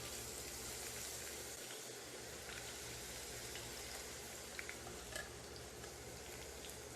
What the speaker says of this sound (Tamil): தீயை மீடியம் ஃப்ளேமில் வச்சு வெங்காயத்தை பொரிச்சு எடுத்துக்கோங்க